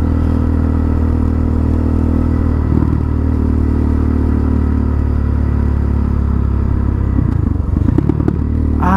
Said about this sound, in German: Die Fehlzündungen sind zu krass einfach.